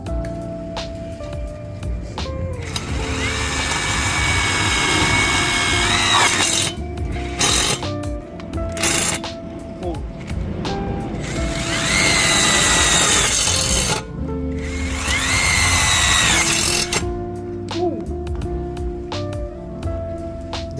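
A DCK KDPL04-8 cordless brushless impact driver, 140 Nm, set to auto mode, drives screws into 4 mm iron plate, its loud rattling hammer bursts repeating in several long runs separated by short pauses, with no talking.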